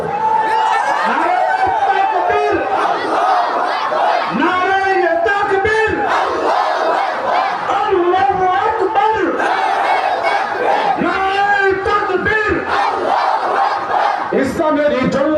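A large crowd at an Islamic religious gathering in Bangladesh shouts the takbir in unison, loud repeated chant-like call and response waves with voices layered over one another.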